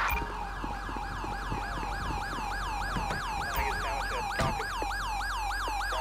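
Ambulance siren from Grand Theft Auto 5 wails in a steady, repeating rise-and-fall cycle, loud and close, over a low background rumble with faint knocks.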